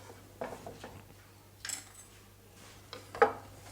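A spoon scrapes and clinks against a bowl while smoked mackerel pate is mixed, with several irregular close taps and rubbing strokes over a quiet background hum.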